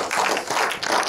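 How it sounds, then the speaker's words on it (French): Audience at a ciné-concert in a cinema in Sainte-Livrade claps for the host, a short burst of close, moderately loud applause. "Il faut l'applaudir."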